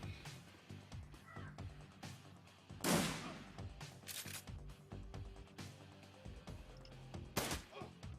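Gunfire from the video game Shadowrun Returns: a couple of sharp, fairly loud bursts stand out among quieter clicks and game sounds over a low ambient background.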